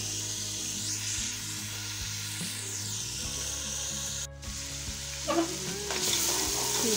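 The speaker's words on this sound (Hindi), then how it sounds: "अब हम इसके अंदर डालेंगे सब्जी" Vegetables for aloo gobi (potato and cauliflower) dropped into hot oil and fried masala in a pan, giving a steady close sizzle with stirring and rubbing scrapes and a brief sharp burst near the end.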